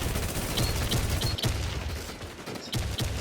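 Gunfire fills a Thai-language shooter match in a continuous crackling fusillade. Rapid shots overlap under dense background noise, with a few sharper cracks standing out above the din.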